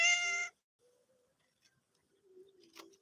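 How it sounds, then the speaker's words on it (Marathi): A plump, playful domestic cat at a home in the Konkan gives one loud, close meow at the start, followed by near silence broken by faint bird calls and soft cooing. "ही आमची मांजर"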